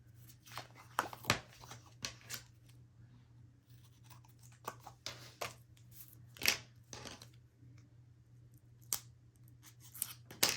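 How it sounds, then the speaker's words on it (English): Fiskars Teflon-coated scissors cut paper for a wedding album in a quiet room: a string of crisp, close snips, some in quick pairs and others spaced out, over a low steady hum. "Fiskars is the brand that I use for my Teflon scissors."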